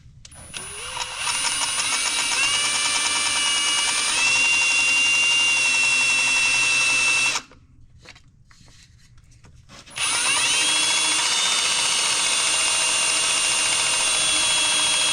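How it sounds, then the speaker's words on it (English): A power drill with a dull bit whines steadily as it bores a pilot hole in a 1950T tractor, stops for a couple of seconds, then spins up again. "So we'll just take a little drill bit and poke a hole for that thing to start into."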